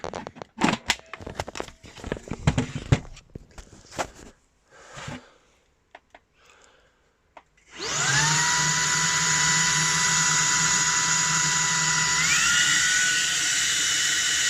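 A Shark IZ300UK cordless vacuum cleaner with DuoClean PowerFins, running without its charger. After several seconds of handling clicks and knocks it starts with a loud, steady high-pitched whine and motor drone that rises slightly and holds to the end.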